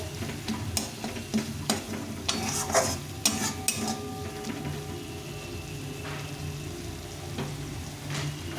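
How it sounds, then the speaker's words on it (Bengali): Spice masala with Kashmiri chili powder fries and sizzles in a pan while a spatula stirs and scrapes it, steady hissing broken by repeated sharp metallic scrapes and taps, close up with no talk. "কাশ্মীরি লঙ্কা গুঁড়ো একটু দিয়ে দেবো দিয়ে একটু ভেজে নেব এটাকে একটু ভালো করে কষিয়ে নেব"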